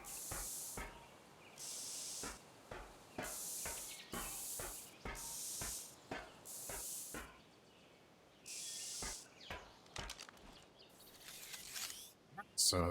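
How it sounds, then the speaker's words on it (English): Spray paint hisses from an aerosol can in repeated short bursts, each about half a second to a second long and fairly loud and close. Faint talk sits underneath. "So that's all that spray painting done."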